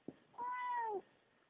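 A single clear cat meow, close and fairly loud, with a rising-then-falling tone lasting about half a second, preceded by a faint soft bump and followed by quiet room noise.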